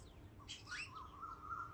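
Hand-fed pet birds chirp and tweet in a short, fairly faint burst of quick calls, followed by a thin sustained whistle-like note in an indoor setting.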